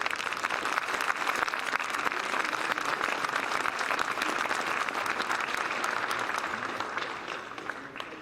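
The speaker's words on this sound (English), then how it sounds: "Let's give them a big round of applause." Sustained, dense applause from a large audience at a veterans ceremony, steady and close for several seconds before easing slightly at the end, with no voices over it.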